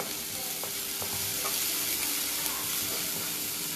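Chopped onions fry in oil tempered with cardamom, clove and cinnamon, producing a constant nearby sizzle with a few soft stirring knocks and no voices.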